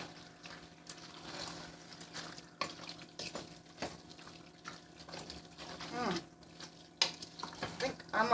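Chili meat is stirred in a pot, with soft scraping and clinks of the utensil against the pot over a faint simmering sizzle, heard close and quiet.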